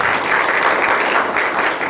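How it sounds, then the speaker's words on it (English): Sustained crowd applause at a 23rd Ward community meeting on TIFs, many hands clapping loudly and evenly for a couple of seconds without talk. "So give him a round of applause."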